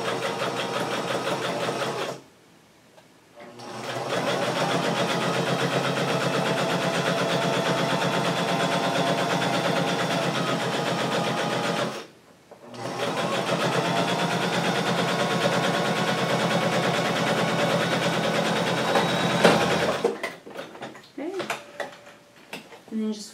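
A sewing machine stitching a stroller tote bag runs in long steady whirring bursts, stopping briefly twice, then ends in a few short stitches and clicks, with a person talking over it.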